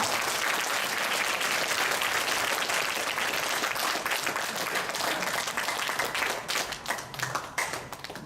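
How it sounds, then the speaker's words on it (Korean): Applause from a church congregation at a Sunday service, a dense steady patter of many hands lasting several seconds before thinning out toward the end. "힘차게 박수 부탁드리겠습니다"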